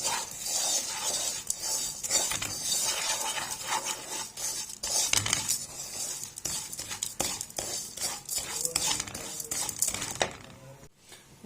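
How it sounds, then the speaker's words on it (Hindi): A spoon stirs sugar syrup in a pan without stopping, close and continuous with rhythmic scraping, light clinks against the pan and a soft sizzle underneath, fading out near the end. "ऐसे हमने चम्मच चलाते जाना है, इसके चम्मच नहीं हमने रोकना"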